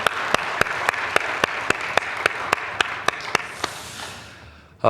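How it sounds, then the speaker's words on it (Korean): Congregation clapping during a Sunday church worship service, a sustained patter of applause punctuated by sharp, evenly spaced louder claps in rhythm, gradually thinning and fading toward the end. "이날을 주신 하나님께 우리 영광의 박수 올려드리십시다."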